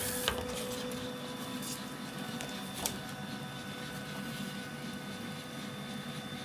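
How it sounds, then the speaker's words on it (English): A Canon iPF 6400 large-format printer with refillable ink runs a nozzle check, giving a steady mechanical whir with a couple of faint clicks, continuous and moderately close. "mainly I'm just doing the nozzle check"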